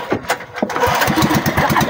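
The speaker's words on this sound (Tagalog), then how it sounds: "Buti na lang talaga, may motor na isinakay dito sa sinasakyan namin bangka." Outboard motor on a small boat at sea sputtering into life, with a few uneven coughs giving way to a loud, close, steady chugging drone.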